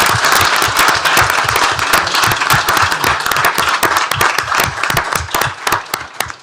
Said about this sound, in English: How about a big round of applause for our victim assistance coordinators?